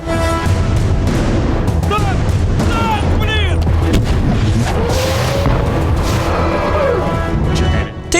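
A battle scene from a Russian war film, with dense gunfire and heavy artillery booms crashing continuously over a loud roar, whistling shells and shouted voices mixed in.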